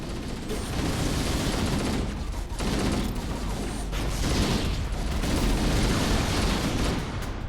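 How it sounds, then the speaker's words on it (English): Dense gunfire and a grenade in Halo: Combat Evolved, a continuous loud barrage of rapid shots with a heavy boom partway through, sustained throughout with no pause. "I threw a grenade for no reason."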